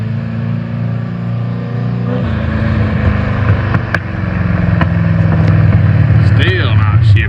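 A 1968 Mustang engine drones loud and close with a transmission that will not shift properly, the note holding steady and then climbing slightly as the revs rise.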